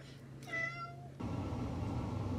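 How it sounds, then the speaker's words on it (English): A single short, squeaky meow from a cat comes up close over a quiet background hum, then gives way to a steady low rumble. "We have a squeaky kitty."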